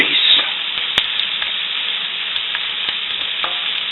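Bacon grease sizzles loudly and steadily in a cast iron pan, a close, continuous hiss with a few faint clicks and pops, and no voices.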